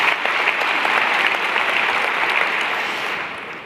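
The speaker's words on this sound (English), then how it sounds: "Give yourselves a round of applause." An audience at a 2014 Paris keynote applauding, with dense, steady clapping from a large crowd that fades slightly toward the end.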